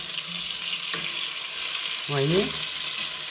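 Lentils sizzling and frying in oil in a pan, a steady broad hiss throughout with a brief stirring scrape, while a person speaks briefly over it.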